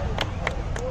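Three quick handclaps at a Darjeeling circuit riders' meetup ring out close by over a murmur of background talk and crowd noise.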